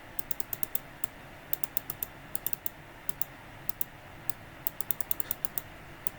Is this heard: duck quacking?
no